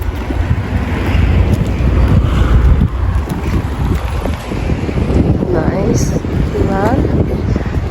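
Strong wind buffets the microphone with heavy low rumbling gusts in Aveiro, Portugal, mixed with water and engine noise, while voices talk briefly underneath.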